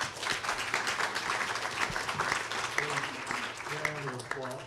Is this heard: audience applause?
yes